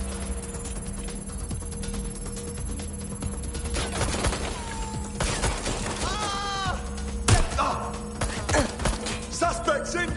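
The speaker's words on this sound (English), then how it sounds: "Suspects shooting!" Suspects fire guns in Watch Dogs: Legion amid police chaos, sharp scattered shots cracking over a low background hum with assorted game effects in between, moderately loud.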